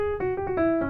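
A piano plays a quick grace-note trill in the right hand over a sustained sus chord in a jazz setting, with a few short stepping notes ringing clearly and alone.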